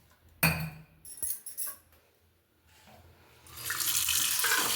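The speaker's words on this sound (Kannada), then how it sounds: "ಮೊದಲು ಈ ಒಂದು ನೀರಲ್ಲಿ ನಾನು ತೊಳ್ಕೊಂಬಿಡ್ತೀನಿ." Toor and masoor dal being washed in water: a tap runs briefly, glass or steel clinks, and then a steady splashing stream of water fills the vessel at close range, with no talking.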